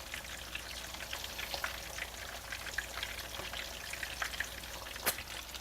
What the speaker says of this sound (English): Our meatball has been cooking for about 2 to 3 minutes on one side.